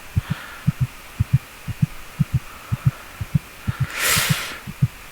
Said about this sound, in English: That's my heartbeat right now.